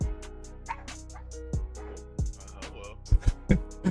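A dog barks and yips in several short, sharp bursts over a low steady background, growing more frequent toward the end.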